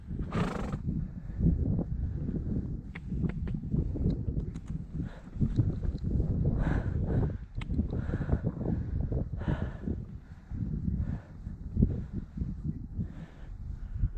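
A horse neighs and whinnies repeatedly while its hooves clip-clop nearby outdoors, with gusts of wind noise over the microphone and no speech.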